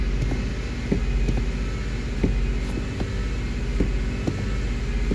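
A 2009 Jeep Liberty engine, suffering a fuel pressure drop and hard to start once warm, runs with a steady, close, low droning rumble, faint ticks recurring throughout and no clear rise in revs, with no voices.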